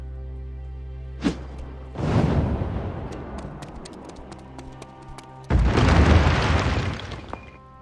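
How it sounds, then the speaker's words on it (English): Whirlwind bombs in the fantasy role-playing game Magna Carta 2, a sharp pop followed by two heavy roaring blasts several seconds apart, loud and close with debris crackle trailing off. "Let's try those whirlwind bombs."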